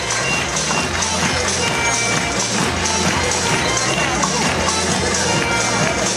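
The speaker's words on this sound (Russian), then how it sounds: "И такой же фонтан аплодисментов Диме и Зое!" Dolphinarium audience at Bolshoy Utrish near Anapa applauding, a loud, dense and steady wash of clapping and crowd noise that fills the whole stretch without a break.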